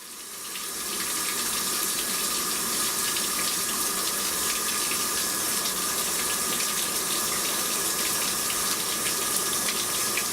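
Water sprayed steadily into a blocked chassis box on an Iveco Daily van, a continuous close hiss and gush of running water lasting throughout with no talk.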